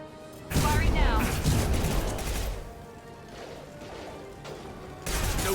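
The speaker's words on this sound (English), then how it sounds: "Firing now." Mass Effect 2 gunfire erupts in a dense, loud barrage of shots and impacts, with a voice speaking over the sustained din before a second burst begins.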